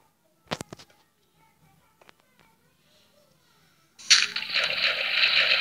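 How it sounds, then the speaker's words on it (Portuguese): Water in Minecraft rushes in suddenly and keeps pouring in a steady loud wash, following a few scattered clicks and taps from quiet digging, with no talk. "entrou água"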